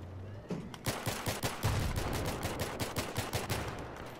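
Rapid bursts of gunfire in the Battlefield 3 video game, a dense run of sharp repeated shots crackling almost continuously for several seconds, loud and close.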